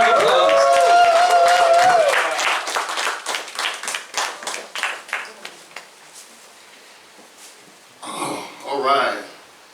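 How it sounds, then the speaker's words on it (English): A small comedy-show audience claps for comedian Jimmy James, a burst of dense close applause that thins into scattered claps and fades, followed by someone talking. "Big round of applause."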